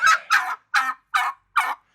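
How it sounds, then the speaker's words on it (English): Five quick, rapid gobbles from turkeys close by, each a short burst with brief pauses between, no other sounds around them. "now before we get those bunnies in, we're gonna release the turkeys."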